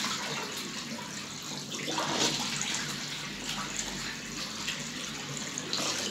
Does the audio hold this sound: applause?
no